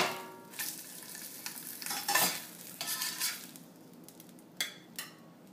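Egg frying in a cast iron skillet, a soft sizzle under scraping and clinks of a utensil against the pan, with a few sharp taps near the end, close and without talk.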